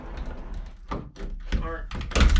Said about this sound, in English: First things first, we are going to take off these doors